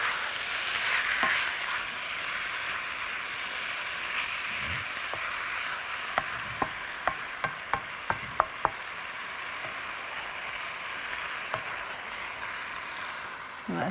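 Spices such as cardamom, paprika, turmeric and curry powder fry with tomato sauce in a pan, a low steady sizzle with a quick run of spoon clicks against the pan midway, no talking.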